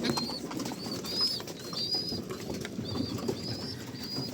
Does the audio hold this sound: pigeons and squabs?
yes